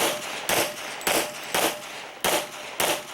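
Pistol shots fired by a shooter at an IDPA match, six sharp, loud reports spaced roughly half a second apart, each with a brief outdoor echo.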